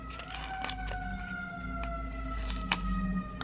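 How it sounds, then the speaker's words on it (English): A distant emergency siren wails outside, its rising and falling tone drifting faintly into a quiet indoor room. "I'm sorry if you can hear the siren outside."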